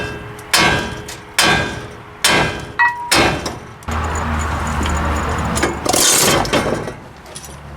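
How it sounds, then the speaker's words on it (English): A sledgehammer is swung sideways into a medium-duty truck's steering and brake parts, giving about five sharp, heavy metallic strikes at roughly one-second intervals, then a rough scraping clatter near the end. "This is an easy swing of a sledgehammer sideways."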